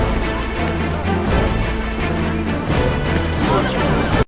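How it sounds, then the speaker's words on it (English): Chase-scene music from the 2011 Wonder Woman pilot plays loud and dense, with driving orchestral tones and crashing hits throughout. "And I know the chase music sounds like this,"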